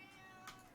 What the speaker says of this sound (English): I gotta take care of this cat.